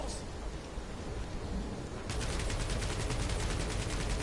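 Gunfire in Guardians of the Galaxy starts as a hiss and then becomes a rapid, continuous stream of loud shots that runs without a break to the end.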